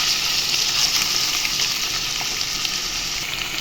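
Beans, carrots and other vegetables frying in oil for a chicken stew, a loud, steady, close sizzle that holds evenly throughout without speech.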